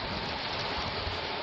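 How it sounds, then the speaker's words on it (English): Hail pounds down during a storm in Sydney, a dense, loud, continuous hiss and clatter of ice striking surfaces with no voices. "Crazy hailstorm destroyed hundreds of cars in Sydney."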